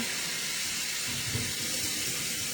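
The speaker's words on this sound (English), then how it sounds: "Rinse off my hands, of course, because now they're a little sloppy." Water runs from a tap as hands are rinsed in a kitchen, a steady close hiss of flow lasting a few seconds, with a few faint clatters underneath.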